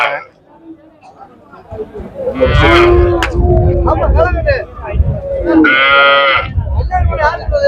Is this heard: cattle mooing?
yes